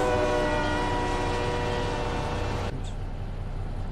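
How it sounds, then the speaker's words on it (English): A train passing in American Truck Simulator, near and loud, with a sustained horn blast and rumbling rail noise that cuts off abruptly, leaving a duller rumble. "Wow, the first time I've actually seen a train go by."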